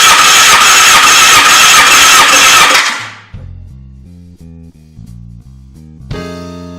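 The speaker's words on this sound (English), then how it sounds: "The engine will be cranked 10 times" An engine cranks over for a four-cylinder compression test, a loud, steady, dense whirring that runs for about three seconds and then cuts off as music takes over.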